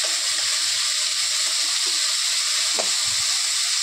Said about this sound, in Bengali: খুব ছিটকায় তেল, তাও তো এখন কদিন সাদা তেলে রান্না করছি